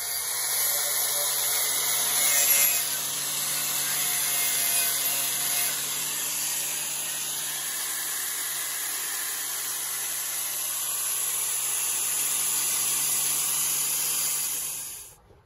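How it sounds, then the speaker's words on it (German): Welding on the heater air flap of a UAZ 469 off-road vehicle produces a steady, loud hiss and crackle that holds for about fifteen seconds before cutting off, with no voices. "So, Tobi schweißt das jetzt."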